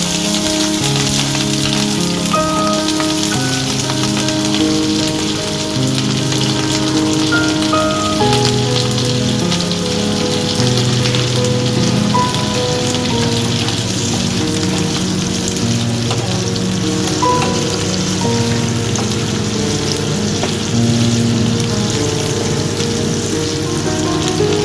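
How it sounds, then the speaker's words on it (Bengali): Spring onions sizzle in hot oil seasoned with black cumin, a dense, steady crackle and spatter that fills the whole stretch at close range with no voices. "পেঁয়াজ কলিগুলো আমি ভাজা ভাজা করে নেব"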